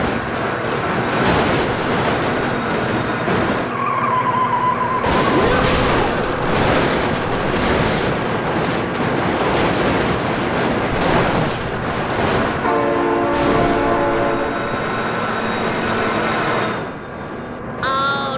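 A train rolls past with steady rumbling and clatter, its horn blaring in sustained tones partway through and again near the end, loud and close throughout.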